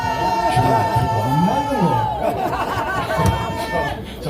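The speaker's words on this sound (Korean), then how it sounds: "나팔 같이 불면서 무너져라 하고 함성 외치겠습니다." A crowd at a political rally shouts together, with a strong raised voice rising and falling in pitch above dense, loud chatter and cheering that fills the whole stretch.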